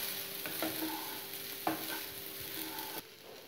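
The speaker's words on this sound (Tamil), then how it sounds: "நல்லா கிளறிக்கோங்க." Curry leaves rice stirred in a pan over low heat, a soft scraping spatula with a faint sizzle underneath, quiet and steady.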